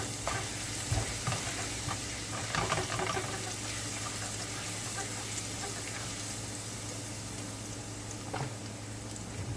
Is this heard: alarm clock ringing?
no